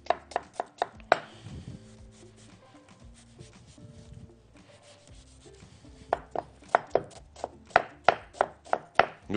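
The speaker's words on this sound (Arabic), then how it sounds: "نفرم عندي البصلايه كويس جدا" A knife finely chops an onion on a board, with a fast run of sharp close knocks, then a quieter stretch of soft scraping, then another steady burst of chopping.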